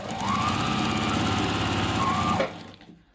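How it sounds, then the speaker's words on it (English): A sewing machine stitches a zipper pocket seam in a fast, continuous mechanical rattle, loud and close. It runs steadily for over two seconds, then stops abruptly and leaves a faint tail. "I'll start stitching using about 1/2 inch seam allowance"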